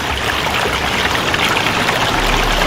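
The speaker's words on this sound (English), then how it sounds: "So I wouldn't have had any hesitation to stick my head in there and drink some" Clear mountain stream at the top of a river, rushing and trickling steadily up close with a continuous broadband wash of water and no voices.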